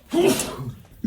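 One short, sharp sneeze, close by and fairly loud, with a brief breathy burst at the end.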